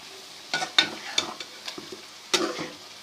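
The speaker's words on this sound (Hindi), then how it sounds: "और इसको भूनते हैं 4 से 5 मिनट मज़ीद।" Chicken karahi masala gravy cooking in ghee in a pan, with a soft background sizzle and several scraping, clinking stirs of a spoon against the pan.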